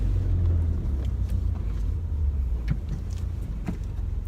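A J-spec Toyota MR-S runs at low speed while being parked, its engine a steady low rumble with a few faint clicks and knocks over it and no voices.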